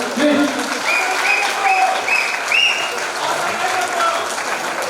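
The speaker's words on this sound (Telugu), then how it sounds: "ముఖ్యంగా ఇద్దరు చప్పట్లు కొట్టడం చేస్తున్నారు" A crowd claps continuously at the inauguration of a renovated community marriage hall, the applause rolling on at moderate loudness while voices talk over it.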